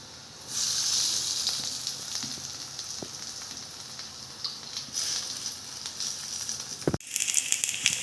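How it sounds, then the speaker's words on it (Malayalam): Cabbage pakoda batter dropped into hot oil, frying with a steady close sizzle that swells after the first half-second, a brief stir or clatter near the end, then the bubbling returns. "ഇനി ഇതെല്ലാം മിക്സാക്കിയ ശേഷം നമുക്കിത് ഫ്രൈ ചെയ്തെടുക്കാം. ഇത് ചൂടായ എണ്ണയിലേക്ക് ഇട്ട് കൊടുക്കാം."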